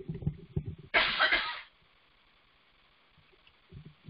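A single burst of coughing during a talk at a bird club meeting, loud and close for about half a second, with the speaker's voice briefly before and after.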